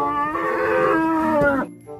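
A toy animal truck gives off a single loud, drawn-out electronic cattle moo that swells and then cuts off abruptly, leaving a faint hum.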